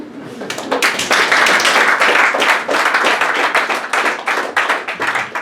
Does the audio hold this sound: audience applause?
yes